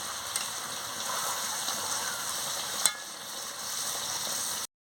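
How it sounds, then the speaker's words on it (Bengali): A steady sizzle with occasional scraping as chicken curry with yam is stirred in a pot after water is added, close and continuous, then cut off abruptly at the end. "জলটা দিয়ে ভালো করে নাড়িয়ে নিচ্ছি"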